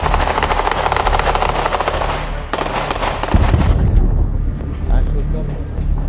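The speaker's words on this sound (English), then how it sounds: "The sounds you can hear behind me are sounds of ongoing warfare." Rapid bursts of gunfire and booming explosions from ongoing warfare in Iraq, dense and loud at first, then thinning to scattered distant blasts and rumble, with a voice speaking underneath.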